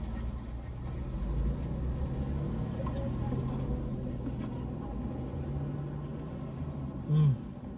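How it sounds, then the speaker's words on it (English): Steady low rumble of cars moving past a parking lot, a continuous engine drone at moderate distance with one brief louder thump near the end. "Oh shit, cars, man."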